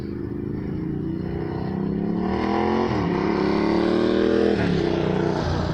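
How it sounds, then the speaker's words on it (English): A loud, obnoxious motorcycle near a motorcycle shop revs steadily, its engine pitch climbing and dipping a couple of times as it runs close by, with no voices over it. "I'm near a motorcycle shop, and of course, I like to test drive their motorcycles"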